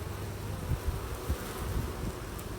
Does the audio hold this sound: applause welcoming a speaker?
no